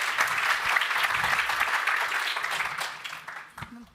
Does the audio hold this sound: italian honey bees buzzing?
no